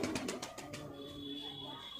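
A Surkha pigeon from Jaipur gives a few soft, throaty coos close by, fading into a quiet hum.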